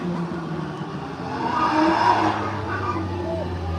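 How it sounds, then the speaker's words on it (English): A four-door Nissan Skyline speeds up a sprint course at a motoring festival. The engine revs rise and hold as the car passes fairly close, and tyre noise swells in the middle, under a commentator talking. "That's a 4-door Skyline, so you don't see too many of those in the wild either."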